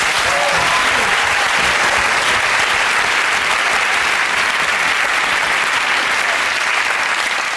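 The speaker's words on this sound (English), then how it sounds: "Please join me now in a round of applause for our people and their things." Studio audience applause on the comedy panel show Never Mind The Buzzcocks: a loud, thick, unbroken roar of clapping that holds steady and close from start to finish.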